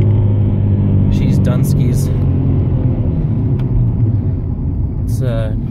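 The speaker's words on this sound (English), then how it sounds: "Means the clutch was slipping pretty bad." A Subaru Legacy engine with a badly slipping clutch drones loudly at high revs inside the car, a deep sustained rumble holding steady, while people talk over it.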